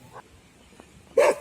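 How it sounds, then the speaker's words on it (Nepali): A dog gives one loud, close bark near the end of a short stretch that is otherwise quiet, with faint softer sounds coming before it. It happens outdoors where monkeys are also around. "यताबाट कुकुर पनि आइरहेको छ है।"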